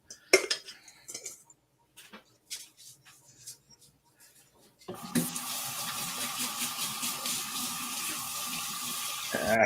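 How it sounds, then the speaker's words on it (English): Kitchen clatter of cutlery and dishes comes first during a snickerdoodle baking session, then a tap opens into a sink for loud, steady running water while washing up, continuing to the end. "Sorry for the sounds of the water, everyone."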